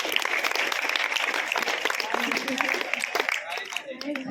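A crowd applauding at a Brahmin trust's general knowledge, essay and elocution competition prize announcement, a dense continuous patter of claps that softens near the end, with talk over it.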